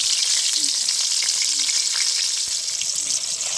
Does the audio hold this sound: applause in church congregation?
no